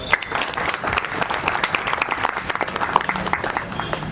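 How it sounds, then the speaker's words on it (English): Audience applause at a launch event for a shuttle service in Genome Valley, with dense, loud clapping from many people throughout. Occasional sharper claps stand out and faint voices sit underneath. "a huge round of applause for that"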